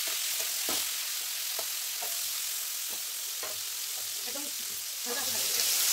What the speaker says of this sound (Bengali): একদমই ব্রোকলিগুলো হালকা করে ভাজবো।